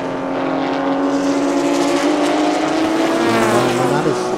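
Porsche Cayman GT4 Clubsport race cars at speed on Chang International Circuit, a loud sustained engine drone with shifting pitch throughout, steady and close, with a commentator talking over it.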